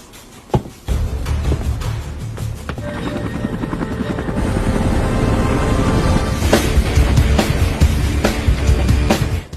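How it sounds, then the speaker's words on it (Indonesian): A helicopter flies through a film scene as contestants jump out to parachute, its steady rotor drone and low rumble loud and continuous, with a few sharp impacts near the start. "Satu persatu peserta melompat dari helikopter."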